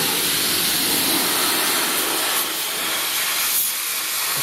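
A pressure washer blasting water at close range onto the wheels of an MTD Yard Machines 5hp leaf blower at a car wash, a loud, continuous hissing spray that shifts slightly in tone as the nozzle moves.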